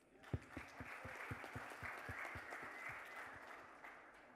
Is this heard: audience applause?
yes